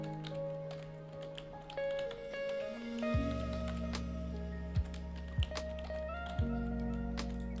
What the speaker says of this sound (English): You're going to hear a lot of keyboard clicking tonight if everyone starts participating super fast